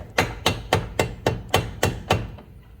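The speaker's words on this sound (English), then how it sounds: "we use a mallet and hit the hammer." A mallet strikes a hammer held against the driveshaft joint of a Ford EcoSport. Eight sharp metallic knocks land in a steady, even rhythm, loud and close, and then stop.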